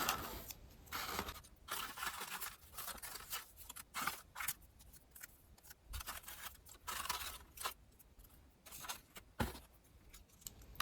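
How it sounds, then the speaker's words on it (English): Scissors fussy-cut paper for small craft tags, making quiet, close, irregular snips and scrapes in short bursts with brief pauses between them. "When I get into the mood for fussy cutting, I tend to overdue."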